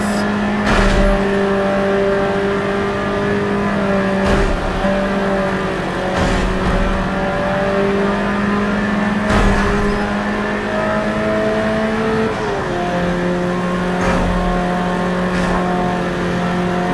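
Race cars in a racing video game lap the Watkins Glen circuit, engines droning steadily with pitch shifts through long turns and periodic sharp gear-change bursts, loud and continuous without talk.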